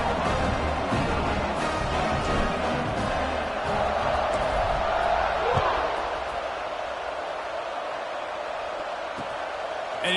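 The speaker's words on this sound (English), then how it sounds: "this crowd is feeling themselves after that last drive" Stadium crowd noise in an American football video game during a kickoff, a continuous broad roar of cheering and chatter that stays loud and steady throughout, with commentary voices over it.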